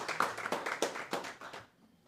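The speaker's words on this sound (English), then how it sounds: "give yourself a round of applause for that" Applause from a conference audience at a national policy gathering, a short burst of many hands clapping that fades out within about two seconds, fairly quiet.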